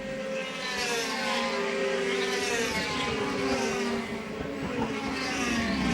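DTM touring cars race around the Brands Hatch circuit during a 22-car 2012 race. Engines roar continuously with rising and falling whines as the cars pass, forming a dense, steady wall of racing noise.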